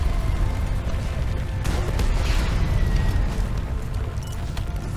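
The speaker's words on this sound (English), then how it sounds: "Explosions." Explosions in the video game Deep Rock Galactic, a dense run of booming blasts and bursts over several seconds, loud and alone without talk.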